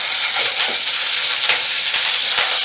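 Ginger garlic paste sizzling in a hot pan, a loud, dense, continuous frying hiss with small crackles and stirring scrapes, close and alone.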